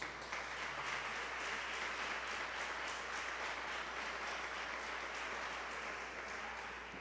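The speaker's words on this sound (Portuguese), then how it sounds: "Aplaude a Jesus" A church congregation applauding Jesus during a Portuguese-language service on the Holy Spirit: sustained, even applause from a large crowd filling the room, steady throughout with no speech over it.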